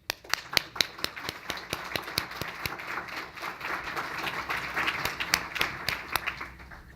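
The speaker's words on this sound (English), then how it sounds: "we would like to take a moment to applaud them" Audience applause at a Martin Luther King Jr. Social Justice Awards ceremony, starting as distinct claps, swelling into a steady patter of many hands, then thinning back to scattered claps.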